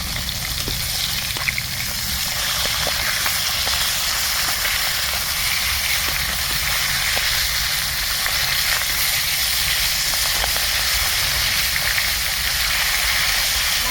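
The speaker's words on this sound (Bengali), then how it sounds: "এখন আমি মাথাটা ভালো করে ভেজে নেব।" Continuous loud sizzling and crackling of a fish head frying in oil, close up, with scattered small pops over a steady hiss.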